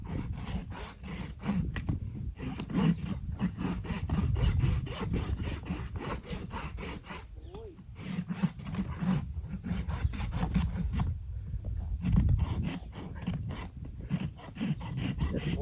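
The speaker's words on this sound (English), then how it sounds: "So now I'm going to grab my rasp," A rasp scrapes across the sole of a barefoot horse's hoof in steady back-and-forth strokes, close and rough, with a few brief pauses between passes.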